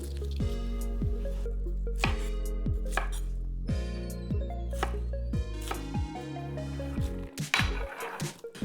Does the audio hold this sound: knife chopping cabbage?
yes